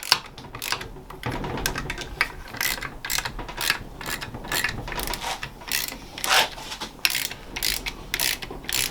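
A hand ratchet wrench snugging down bolts on a differential ring gear during a 4.88 gear install, a steady stream of close, dry clicking ratchet strokes in uneven bursts.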